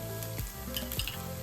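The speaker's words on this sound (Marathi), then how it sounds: "आता हलकंसं तेल टाकते त्याच्यावर" Paneer tikka on a new tawa sizzles and fries loudly and steadily as a little oil is added, with close continuous crackle throughout and no voices.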